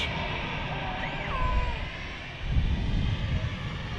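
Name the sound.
aircraft on approach at Manchester Airport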